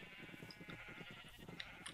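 Sheep in the Minecraft video game bleating faintly in a rapid, overlapping rhythm, as from a large flock packed close together.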